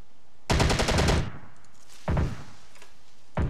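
Automatic gunfire from a defense turret in a strategy battle game set on a US airbase: a loud rapid burst of about one second, then two shorter, fainter bursts, with no talking.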